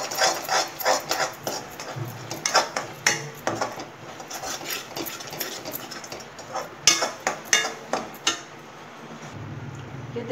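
A spoon scraping and stirring a coconut ladoo mixture as it roasts in a pan, irregular clattering strokes, close and alone.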